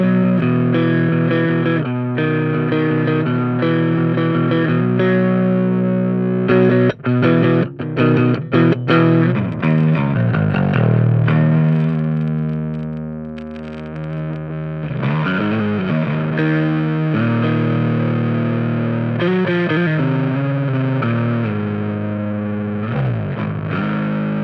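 A bass guitar played through a cheap bass amp with its drive channel engaged, giving a loud, gritty, distorted tone with sustained notes, some quick choppy passages and a brief dip in level partway through, heard alone without talk.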